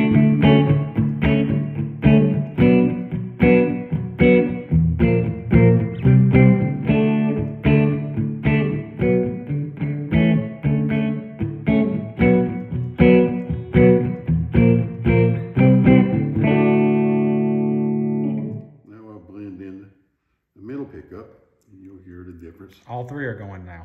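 A Gibson Les Paul Custom with two pickups on plays rapid picked chords with some grit, then lets a chord ring out before a few sparse notes and a voice at the end.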